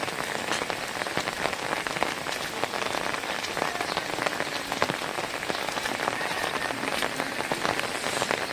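Heavy rain falls outdoors in a village during the rainy season. It is a steady, dense patter of close drops striking surfaces, holding an even, loud roar throughout with no voices.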